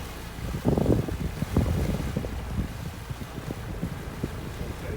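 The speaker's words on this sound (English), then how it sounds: "The wind is really blowing." Strong wind gusts buffeting the microphone at a marina dock, with a loud roaring burst near the start and steady blustery rumble continuing throughout, no talking.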